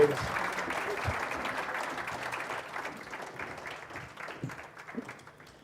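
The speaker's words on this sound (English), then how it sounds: "that round of applause is very limited" Audience applause at the 2023 South African Mathematics Foundation Annual Awards Function, a dense wash of clapping that starts full and gradually thins and fades over several seconds, with a few louder claps near the end.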